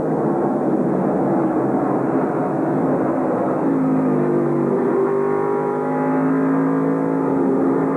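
Race truck engines from the 1997 NASCAR Craftsman Truck Series drone steadily as the pack circles the track, with shifting pitches from several trucks overlapping in a loud, continuous roar.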